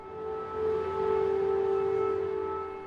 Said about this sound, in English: Then the sirens go off.